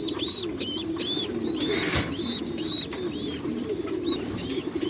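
Racing pigeons coo in a steady, overlapping low murmur close by, with repeated soft calls layered over one another and a few sharper chirps from other birds drifting in.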